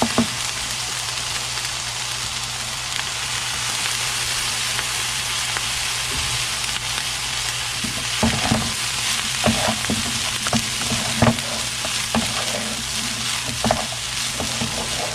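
Fried rice sizzles steadily in a hot pan for the whole stretch, with intermittent scraping and stirring clatter from about the halfway point onward, close and fairly loud, with no talking.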